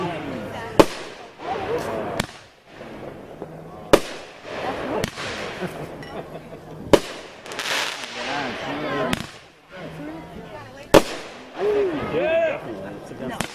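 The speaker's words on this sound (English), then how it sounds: "It's against the law to have these kind of fireworks." A backyard Fourth of July fireworks show booms nearby, sharp blasts going off every second or two with crackling between them, while people talk throughout.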